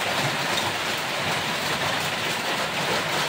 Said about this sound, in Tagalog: Maingay kasi malakas ang ulan dito sa amin.